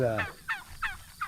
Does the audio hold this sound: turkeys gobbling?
yes